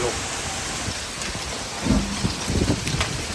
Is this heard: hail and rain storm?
yes